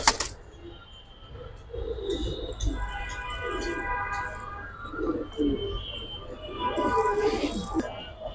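Giribaz silver pigeons coo in repeated low, throaty rolls, several birds overlapping nearby, while people talk intermittently in the background.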